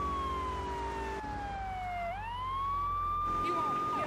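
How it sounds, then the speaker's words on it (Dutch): Police car siren in the GTA 3 video game wails loudly and continuously, sweeping down and back up in pitch before cutting off near the end. "Ik even die sirene uitzetten."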